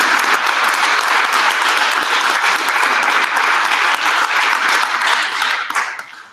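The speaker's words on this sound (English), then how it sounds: "let's give us all, yourselves, a big round of applause" Sustained applause from a large audience, dense and steady clapping that fades out at the end.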